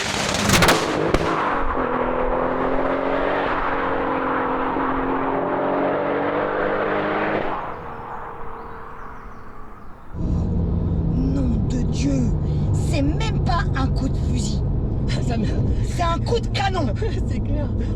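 An Audi A3 3.2 V6 turbo engine revving hard, a loud sustained tonal roar that rises and holds, drops away, then returns as a lower drone with crackling exhaust bangs popping over it.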